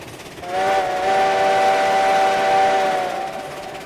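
A Heisler steam locomotive's whistle in the RailRoads Online train game sounds one long, steady, loud blast of about three seconds, with layered tones, then fades away.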